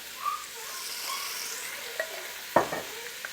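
Meat browning in a pan for chili, a steady close hiss of sizzling frying with a couple of sharp clinks of a utensil stirring near the end, no voices.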